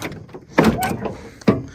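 An old muscle car door is opened, giving a couple of hollow metallic clunks and a creaking latch sound, with a soft thump at the end.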